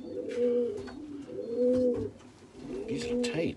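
Racing pigeons coo in a loft, three rounded, rolling coos repeating at a steady pace, close and fairly loud, with a faint rustle in the background.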